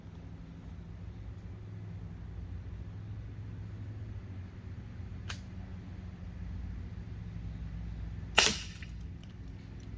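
A .50 or .68 caliber pepper round fired from a launcher outdoors, a single sharp crack near the end over low steady background rumble, preceded by a faint click.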